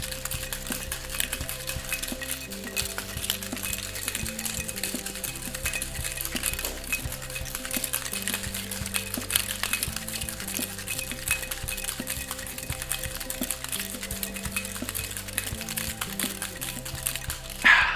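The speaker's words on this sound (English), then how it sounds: "grab another large side, and we're going to do our dry shake." A cocktail shaker tin rattles hard through a dry shake of a whole-egg flip cocktail, a continuous rhythmic clatter that stops abruptly at the end.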